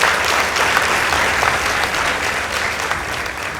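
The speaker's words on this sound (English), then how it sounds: "Let's give them a round of applause." An audience at a school debate applauds the Hill School Girls Eldoret team with dense, steady clapping from many hands that fills the room at a constant loud level throughout.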